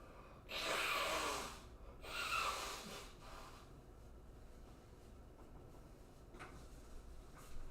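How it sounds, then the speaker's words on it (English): Person blowing their nose: two loud, breathy honking blasts in quick succession, followed by quieter sniffing and a faint click, with no talking. "I need to go blow my nose real quick."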